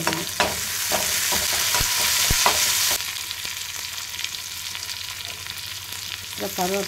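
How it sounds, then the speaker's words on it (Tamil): Crushed ginger, garlic, green chillies and curry leaves sizzle loudly in hot oil in a pan, with a burst of intense frying that settles into a steady hiss, punctuated by scattered pops and spoon stirring, no voices. "பூண்டு, பச்சை மிளகாய் அதையும் நசுக்கி வச்சுருக்கோம். அதையும் போடணும்."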